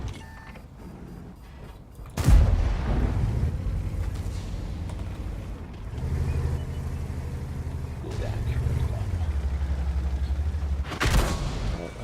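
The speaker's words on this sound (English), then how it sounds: "There we go, artillery, there we go, 2 artillery." Artillery fire in the World of Tanks video game, with a loud booming blast near the start and another near the end, separated by a long stretch of rumbling tank engine hum.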